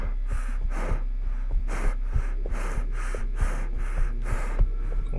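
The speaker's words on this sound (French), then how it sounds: "Mon perso a l'air d'être assez essoufflé." A video game character in Nextbots in the Backrooms pants out of breath, with regular heavy breaths repeating about every half second over a steady low hum and faint background sounds.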